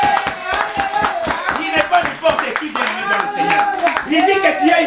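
A church congregation applauding Jesus, rhythmic rapid clapping from many hands mixed with loud voices and shouting throughout.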